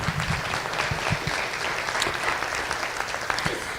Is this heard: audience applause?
yes